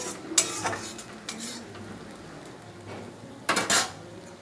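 Mustard-poppy seed paste with turmeric stirred in a pan, a soft sizzle under a few sharp metal spoon scrapes and clinks against the pan, clustered near the start and end.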